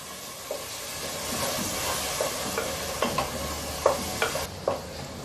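Tomatoes sizzle steadily in a hot pan with a soft hiss, broken by occasional clinks and scrapes of stirring.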